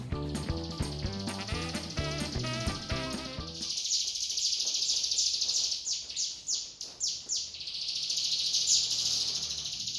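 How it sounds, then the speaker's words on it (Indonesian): A murai air bird sings as a master bird for training songbirds: a few seconds of music give way to rapid, bright, repeated chirps and whistling trills, loud and close. "Kali ini yang jadi masterannya si burung murai air nih."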